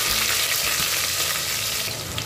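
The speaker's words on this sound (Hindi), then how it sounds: "हरा मिर्ची को थोड़ी देर फ्राई कर लेंगे चलाते हुए" Green chillies fry in hot oil on a low flame while being stirred, giving a loud, steady sizzle with soft scraping throughout.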